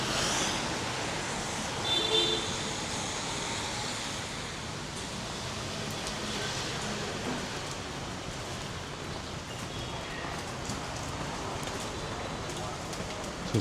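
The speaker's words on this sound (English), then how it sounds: "So you can hear a lot of rain here" Heavy rain falls steadily in Vietnam as a dense, even hiss, loud and continuous throughout, with no clear voices over it.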